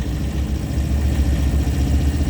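Tata Ace mini truck engine droning steadily while driving on a single road, a low rumbling hum that holds an even level throughout with no voices.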